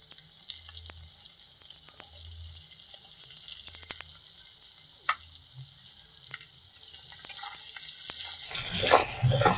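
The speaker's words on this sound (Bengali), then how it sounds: "এবার আলু আর পেঁয়াজটাকে আমি কিছুক্ষণ কষিয়ে নেব।" Potatoes and onions with salt and turmeric fry gently in a pan, a soft steady sizzle that stays quiet and low before swelling into a louder crackling surge at the very end.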